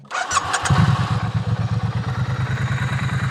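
A Triumph Street Twin motorcycle engine cranks briefly, then fires and settles into a rough, pulsing twin-cylinder idle, close and loud.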